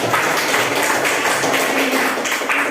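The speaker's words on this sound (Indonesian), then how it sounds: "Kasih aplaus untuk kelompok." Classroom applause for a student group after their presentation, a dense, steady wash of clapping from many hands lasting the whole stretch, fairly close and loud with no talk over it.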